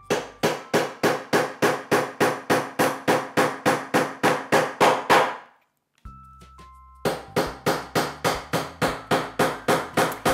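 A hammer drives nails into a wooden coat rack made from hangers, fixing a hanger horn in place: a fast, regular series of loud close blows, a brief pause with light clatter, then another steady run of strikes.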